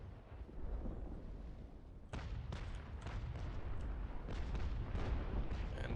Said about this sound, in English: that broadside was a bit short